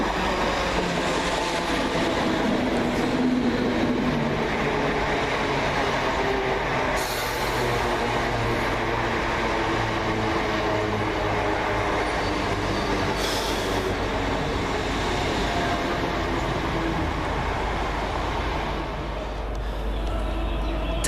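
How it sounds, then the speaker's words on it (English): Class 317 Greater Anglia electric trains pull into a station with a loud, steady rumble and a deep low hum of traction motors, with faint squeals from the wheels and rail noise continuing throughout. "on its heels arriving is 317882 and 317502 with the 1514 Greater Anglia service from Hertford East to London Liverpool Street"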